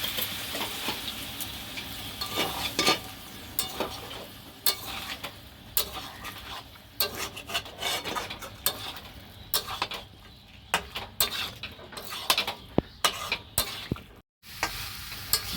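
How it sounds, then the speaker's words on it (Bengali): Fried potatoes with a splash of warm water are sautéed in a pan for a chicken curry. Repeated spoon scrapes and knocks sound over a steady sizzle, with a brief pause near the end. "এবার এর মধ্যে একটু উষ্ণ গরম জল দিয়ে আলুটা ভালো করে কষিয়ে নেব।"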